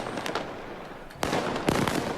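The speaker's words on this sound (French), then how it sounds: "Il y a beaucoup de feux d'artifice lancés" Fireworks go off during a riot night in Argenteuil, with sharp crackling bursts and pops in quick clusters, a louder volley arriving midway and another shortly after, heard at moderate distance over background hiss.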